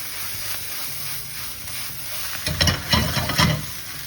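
Spinach with sun-dried tomatoes sautéed in a pan, with a steady low sizzle that breaks into a few louder stirring and tossing bursts toward the end, close and without speech.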